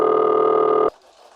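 A buzzing telephone ring in an old radio drama, one steady tone that cuts off abruptly, leaving a faint murmur.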